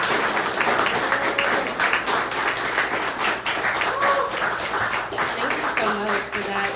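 An audience at a poetry reading claps in sustained, even applause that fills the room throughout, with faint voices mixed in near the end.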